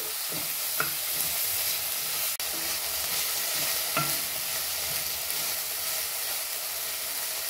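Chopped country tomato sautéing in a pan for a sprouted horse gram curry, a steady close hiss of sizzling with a few sharp stirring clicks and scrapes, no voices.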